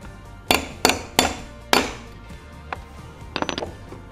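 J-Vice joist bracket being hammered onto a timber joist: four sharp, loud metallic strikes at uneven intervals, then a few lighter taps and clinks.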